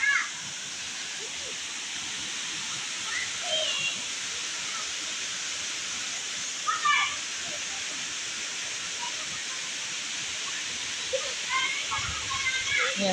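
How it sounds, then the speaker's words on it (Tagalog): Strong rushing water from a waterfall at San Cristobal, Laguna, a steady, dense roar throughout with brief faint voices and splashes poking through. "Lakas ng tubig."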